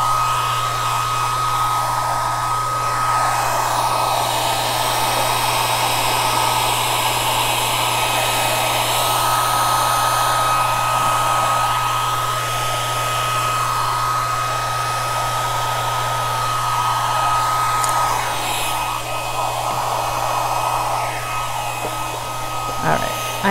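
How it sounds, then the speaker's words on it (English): A hair dryer blows steadily and loudly at close range, a continuous rushing whir with a high motor whine that runs without a break. "So we're using hair dryer, and I'm blowing my tools off the table"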